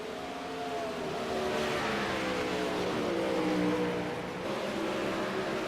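A race car runs on track during qualifying, its engine a continuous sustained drone with rising and falling pitch as it holds speed through the lap, heard at moderate distance.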